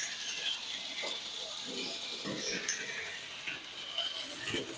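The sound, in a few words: Bachmann N scale toy train locomotive running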